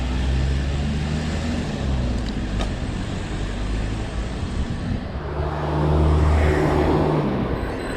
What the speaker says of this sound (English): there's cars all queued up here